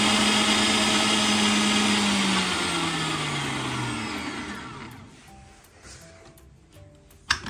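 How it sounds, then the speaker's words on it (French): A kitchen blender whirs steadily while mixing homemade aloe vera moisturizing cream, a loud continuous motor drone that slowly winds down and fades, ending with a small knock. "on va utiliser un mixeur"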